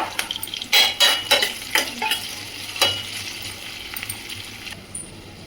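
Sliced onions with salt fry in a pan for Andhra-style egg pulusu. A utensil stirs and scrapes in several quick clattering strokes near the start, then a soft steady sizzle carries on alone.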